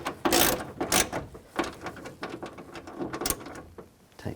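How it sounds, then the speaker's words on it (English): Bolts are tightened with a ratchet while a 10mm wrench holds the nuts, during power window regulator replacement on a 1992-or-later Ford E-250 van: bursts of rapid metallic clicking come close and loud in uneven spurts with short pauses. "now we can tighten down all the other bolts"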